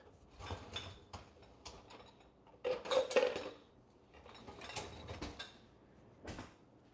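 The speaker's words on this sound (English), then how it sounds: "let me get my knife" A knife being fetched in a home kitchen: scattered metallic clinks, rattles and clatter of utensils and cookware in short bursts, fairly quiet and close, with a busier clatter in the middle.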